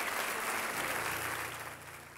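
A church congregation at a Sunday worship service applauds together in a dense, sustained patter that gradually tapers off.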